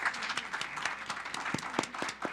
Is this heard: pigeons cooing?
no